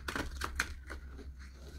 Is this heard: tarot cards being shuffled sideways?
yes